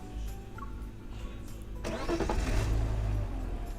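A car engine starting in the game Love and Deepspace: a low rumble then a sudden cranking catch that settles into a steady mid-pitched idle, close and moderately loud.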